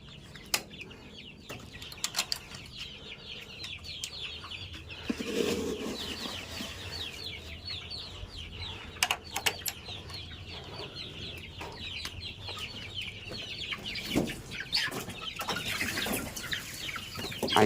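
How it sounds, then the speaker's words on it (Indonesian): Kampung chickens cluck nervously after a sweeping with a broom, scattered clucks and wing flaps around a backyard coop, moderately close with no talk. "Ayamnya agak-agak stres."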